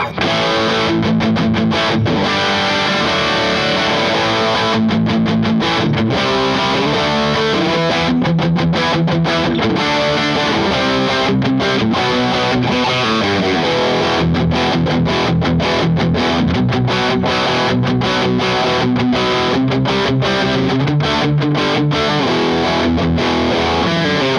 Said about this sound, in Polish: to jest naturalny przester z tego Lanejka rozkręcony na 7